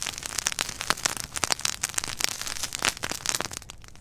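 Brush pile and dry grass burning outdoors, a steady dense crackle of sharp pops and snaps throughout, close and fairly loud, with no talking.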